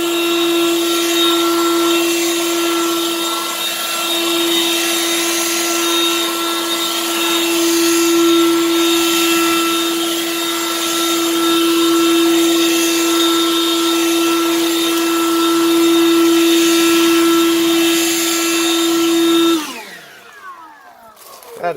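A Harbor Freight Lynxx 40-volt cordless leaf blower run on turbo gives a loud, steady high-pitched motor whine and rushing air for about twenty seconds, then cuts off abruptly and spins down.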